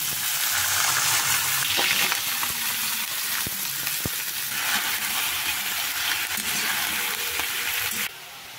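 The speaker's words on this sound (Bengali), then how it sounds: "গরম হলেই আমি পেঁয়াজের কালিটা ভাজা শুরু করে দেব।" Hot oil sizzling in a wok as onions begin to fry, a dense, steady hiss with occasional clicks and spatula taps, running loud and close until it drops abruptly near the end.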